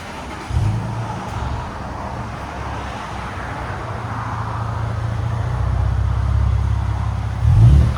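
Steady low rumble of a 2022 Toyota Tundra's 3.4L twin-turbo V6 idling through a Borla ProXS exhaust, heard from inside the cab, with a slight swell toward the end.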